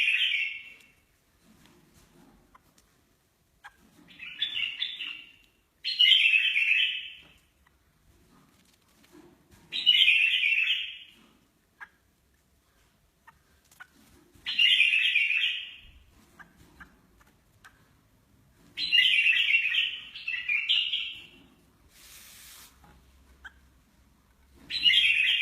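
Young bulbul chicks being hand-taught to feed give short, high chirping bursts in clusters every few seconds, close and clear, with quiet pauses between calls.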